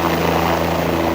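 A helicopter starting up at the Kedarnath helipad, a loud, steady rotor and engine drone with constant low throbbing tones, heard close and alone.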